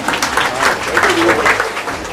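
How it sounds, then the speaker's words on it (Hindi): Audience applause at a school event attended by a legislator, a steady wash of many hands clapping in a hall, fairly close and loud, with voices mixed in throughout. "तालियों की गूंज।"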